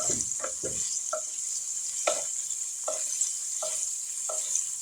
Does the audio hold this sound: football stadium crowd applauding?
no